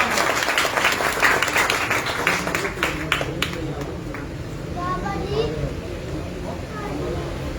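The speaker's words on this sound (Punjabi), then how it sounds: "ਬਹੁਤ ਸਾਰੀ ਤਾਲੀਆਂ ਚੌਧਰੀ ਕਮਲ ਸਾਹਿਬ।" Applause from an audience at a shop opening event, a dense continuous patter of clapping mixed with crowd murmur and children's voices, steady and fairly loud throughout.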